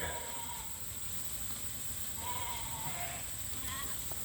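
Sheep bleat intermittently as they come through a farm gate, over a steady hiss of background noise, several calls overlapping at a moderate distance.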